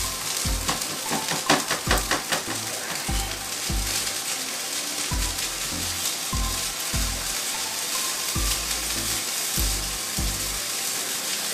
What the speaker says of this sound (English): Now once it's all mixed in, I'm gonna add my bean sprout and my bacon and my sausage.